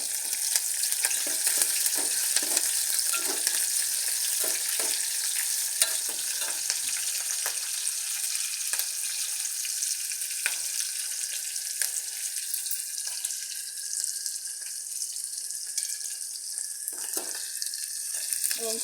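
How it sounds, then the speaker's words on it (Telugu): Green chillies and onion frying in a pan for a flat bean masala curry, a dense continuous sizzle with occasional stirring scrapes and clicks, close and steady throughout. "పచ్చిమిర్చి, ఉల్లిగడ్డ వేసి వేయించుకోవాలి"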